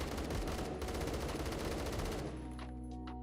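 Rapid, steady automatic fire from an AK-12 rifle in the shooter game Phantom Forces, a loud unbroken stream of shots for about two seconds that cuts off abruptly, leaving a brief fading tail.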